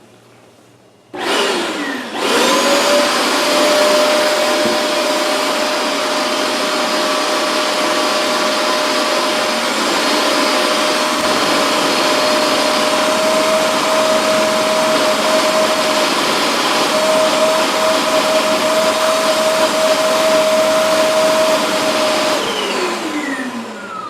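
A Hoover MaxExtract 60 PressurePro carpet cleaner runs in wash mode. Its loud, steady motor drone carries a constant whine, starting abruptly and winding down at the end, with no talking.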